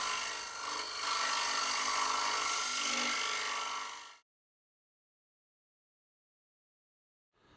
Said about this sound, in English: the mushroom tool can access deep under the rim of the bowl